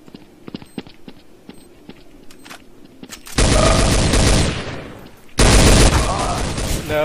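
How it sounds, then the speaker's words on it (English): Counter-Strike: Source gunfire on the Dust 2 or Office maps: sparse single shots and footsteps give way to two long, loud bursts of rapid automatic fire, close and dense, with players talking over the game audio. "They're shooting at us."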